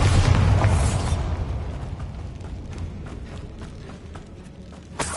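A Bombarda blast spell in Hogwarts Legacy on PS5, a loud booming burst at the start that decays into a low rumbling tail, followed by faint scuffing steps and a small sharp pop near the end.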